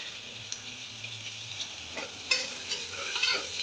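Sliced onion and green chillies sauté in a pan, a soft steady sizzle punctuated by irregular clicks and scrapes of a spoon stirring, close and fairly quiet.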